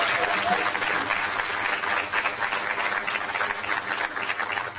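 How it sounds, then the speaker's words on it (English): Sustained applause from a large audience at a panel event on South African women, dense and steady throughout, loud and filling the room with no voices standing out. "Please give her a round of applause."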